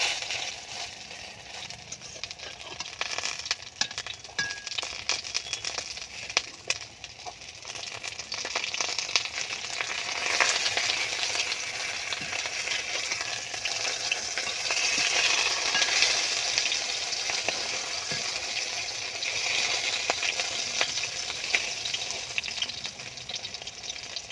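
Lau leaf paturi parcels stuffed with spiced masoor dal frying in oil, a steady hiss and crackle running the whole time with scattered sharper spits and pops, close and fairly even in loudness.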